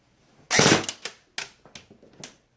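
ICS Mars CXP airsoft rifle firing on three-round burst: a loud sharp rapid burst of snapping shots, followed by a few quieter clicks and mechanical rattles, close by, with no talking.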